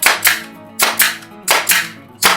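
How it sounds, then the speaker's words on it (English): An 18 gauge brad nailer fires nails into quarter round trim on beadboard wainscoting, giving four sharp, loud close-up shots in uneven pairs with no talking. "shoot some nails in to help hold it while the adhesive dries"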